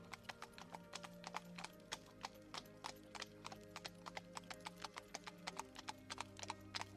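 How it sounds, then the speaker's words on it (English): A wagon with old wooden wheels rolls over cobblestones, its hooves clopping in a steady, even rhythm of crisp knocks over a low rumbling bed, moderately faint and alone. "The sound of the old wooden wagon wheels over the cobbles was a little soothing."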